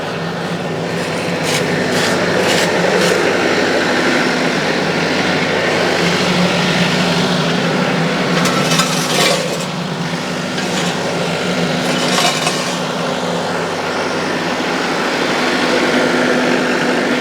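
A tractor engine runs steadily while lifting a load with forks, a loud constant mechanical drone with rattling and whine, no one speaking.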